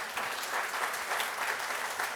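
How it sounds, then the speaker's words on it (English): Brief, full audience applause during a keynote address at Ball State University, a dense burst of steady clapping heard close and without talk. "Give them a round of applause for that."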